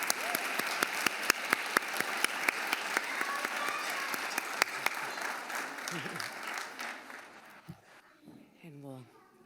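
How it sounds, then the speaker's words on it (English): A room full of people at an Education Advisory Board meeting applauds loudly and steadily, then the clapping fades out as a voice begins speaking. "So one more round of applause for everyone here."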